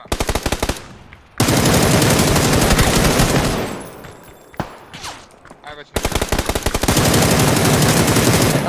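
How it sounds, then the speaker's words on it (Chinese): Loud, sustained automatic gunfire in a shooter video game, long bursts of rapid shots with brief pauses between volleys, close and dominant throughout. "我左边在挨子弹，我左手在挨枪子儿啊"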